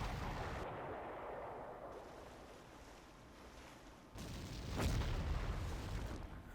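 Naval gunfire sinking a destroyer in the Panzer Corps strategy game: a loud boom bursts out midway over a steady rumbling, sea-like background, with no voices.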